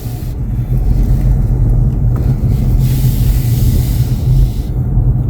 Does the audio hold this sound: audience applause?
no